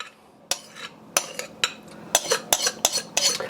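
Coleslaw ingredients get tossed in a too-small bowl, producing irregular scraping and clinking of utensils against the bowl in close, sharp bursts, with no speech.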